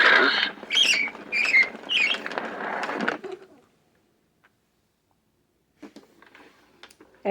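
Bird call played back from a 1989 toy's recorded sounds, a run of bright chirping bursts for about three seconds, then silence and a few faint ticks.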